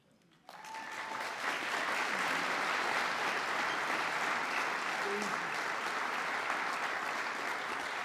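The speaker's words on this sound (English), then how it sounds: "One more round of applause for the KHP outstanding seniors." Sustained audience applause fills a university senior honors ceremony, starting abruptly and holding steady and loud as a dense wash of clapping for the rest of the stretch.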